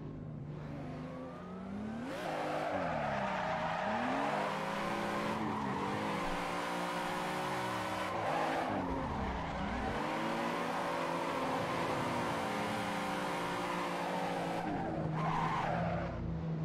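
A car drifting in Assetto Corsa, tyres squealing hard in long wavering screeches over a revving engine, sliding through several linked drifts with brief lifts between them, loud and close throughout.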